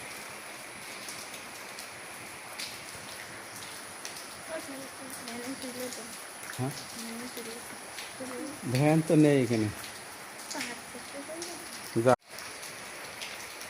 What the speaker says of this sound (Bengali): রিমঝিম বৃষ্টি হচ্ছে, কারো কোথাও কোনো সাড়া শব্দ নেই।